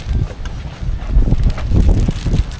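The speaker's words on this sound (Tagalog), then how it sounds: "Medyo malakas yung hangin" Strong wind at a beach in Pangasinan buffeting the microphone, loud gusty rumbling that swells and surges continuously, with no talking.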